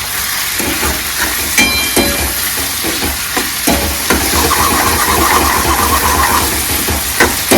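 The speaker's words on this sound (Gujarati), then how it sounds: "ટમેટા રીંગણા બે સડી જાય તેલમાં, તે સડવા દેવાનું છે" Tomatoes and eggplant frying in hot oil for a Gujarati eggplant curry, a steady close sizzle with occasional stirring clatters throughout.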